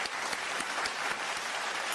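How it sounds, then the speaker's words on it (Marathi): An audience applauds at a wedding-themed celebrity comedy show, a brief, even patter of many hands clapping at moderate volume, heard alone. "जोरदार टाळ्या व्हायला पाहिजे"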